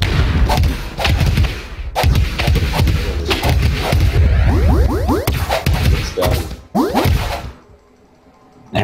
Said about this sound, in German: Bombe explodiert